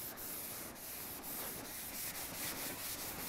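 A scuff pad scrubs a rusty metal surface coated with Fast Etch rust remover, giving a soft, steady, close rubbing and rasping noise with faint repeated strokes and no talk.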